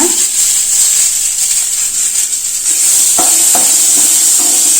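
Onions sauté in a pan for a bitter gourd kuzhambu, giving a steady, loud hissing sizzle with a few scraping stirs near the end and no talk.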